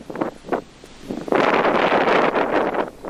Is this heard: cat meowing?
no